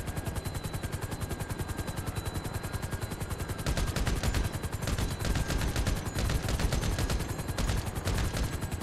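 Rapid automatic gunfire from GTA Online, fired at police from a high vantage point, rattling in a continuous dense burst that grows louder partway through, with a helicopter-like drone underneath and no talk.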